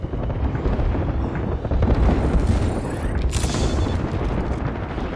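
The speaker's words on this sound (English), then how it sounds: "Airstrike." Several heavy explosions from an Apex Legends airstrike rumble and boom continuously, loud and close, with dense blasts layered over one another and a sharp burst about two-thirds of the way through.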